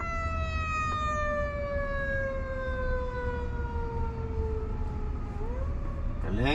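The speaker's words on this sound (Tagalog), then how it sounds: "Pero may ambulance." An ambulance siren passes while riding in a Waymo car. Its loud, steady wail slides slowly downward in pitch over constant road rumble, then sweeps back up at the end.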